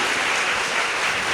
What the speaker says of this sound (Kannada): ಪ್ರೀತಿಯ ಚಪ್ಪಾಳೆಯೊಂದಿಗೆ ಸ್ವಾಗತಿಸಿ ಕುಮಾರಿ ಹಿತಾ ರವಿ